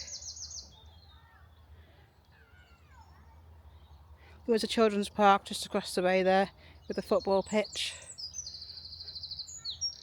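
High, thin birdsong chirps in the background outdoors in ancient woodland at Ewloe Castle, briefly at the start and again near the end, while someone talks over them.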